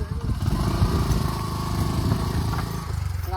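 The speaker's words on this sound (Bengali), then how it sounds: "মোটরসাইকেলে চলতেছে।" A motorcycle engine runs at a steady mid-pitched drone with a rough, throbbing pulse, close by and loud, holding its level for the whole stretch.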